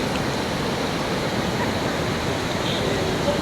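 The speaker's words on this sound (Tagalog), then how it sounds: "Medyo kusog kayo ang awas sa tubig karon kay nagulan" Strong rushing water at a popular river swimming spot in Bislig City, running high after heavy rain: a steady, dense roar with no break, loud and close, with no clear voices over it.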